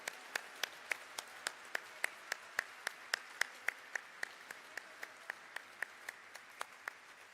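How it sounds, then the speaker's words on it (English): Applause at a corporate ceremony for ITC Hotels' stock market listing, a steady run of sharp, evenly spaced claps, distinct and fairly close over a quiet room tone, keeping up for several seconds. "Huge round of applause, everybody."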